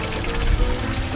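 Water from a just-restarted pump splashes into a turtle tub, a brief, loud, steady gush close by.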